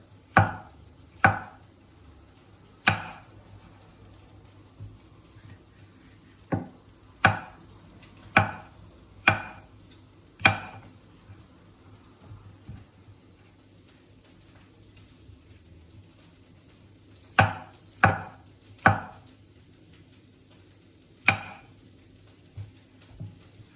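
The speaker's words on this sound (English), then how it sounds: "our sliced mushrooms, all ready to go" A knife slices mushrooms on a wooden board, giving sharp, distinct chops in irregular clusters with quiet gaps between them, close and clear with no talking.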